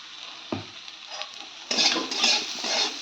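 Spices fry in a pan for a pomfret and vegetable fish curry, a quiet sizzle punctuated by a clunk, then louder spatula scraping and stirring bursts close by.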